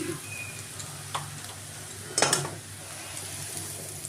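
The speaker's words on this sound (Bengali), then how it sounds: "দেখো বন্ধুরা, আমার বিনস গাজরগুলো ভাজা হয়ে গেল। এবারে এটা ভাতের মধ্যে ঢেলে দেবো।" Fried beans and carrots tipped into a pan of rice for vegetable fried rice, giving a soft scrape and a brief clatter of utensil against the pan midway over a faint background sizzle, with no voices.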